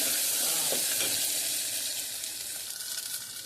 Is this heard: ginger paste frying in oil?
yes